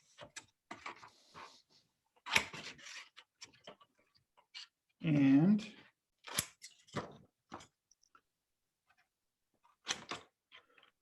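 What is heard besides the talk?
giant scissors cutting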